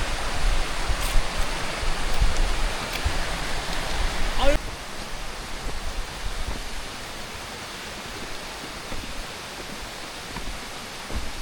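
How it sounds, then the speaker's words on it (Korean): Gugok Falls in Gangchon roars as a broad, steady rush of falling water, loud and close at first, then a little softer and more distant, with no voices over it. "아주 멋진 폭포가 갑자기 눈앞에 나타났습니다."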